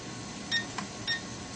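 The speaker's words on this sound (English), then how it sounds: "So 2 beeps is the high rate" Two short electronic beeps from a Syma X8HW drone remote controller, evenly spaced about half a second apart, clear and close, with a faint click between them and a soft room hiss underneath.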